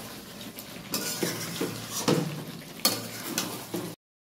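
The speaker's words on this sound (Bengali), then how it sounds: "এই যে কষানো চলছে, কষানো চলছে, এখনো কষানো আরো আধ ঘন্টা চলবে।" Young goat meat curry being stir-fried in a pan, with stirring and scraping of a utensil against the pan over a steady sizzle, fairly close and moderately loud, with no talk.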